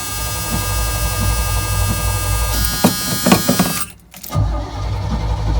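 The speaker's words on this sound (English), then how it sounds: "Get her cranking over" Square-body GMC Jimmy K5 engine cranking over on a booster pack, a loud close whirring starter drone with rhythmic chugging, briefly cutting out near the end before resuming.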